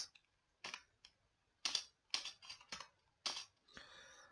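Keys on a computer keyboard click in short bursts with brief pauses between them, close and crisp in a quiet room, a few quick strokes bunched together.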